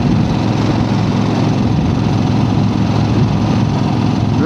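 A 1975 Harley-Davidson XLCH motorcycle engine runs steadily, giving a loud, continuous rumble and rattle close by, with no speech.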